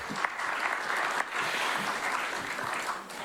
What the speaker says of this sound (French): Vraiment, on peut applaudir Landry, je sais que ça lui a coûté.